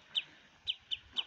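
A sandpiper squeaks near water, giving four short, high-pitched peeps in an irregular rhythm, faint against a quiet outdoor background.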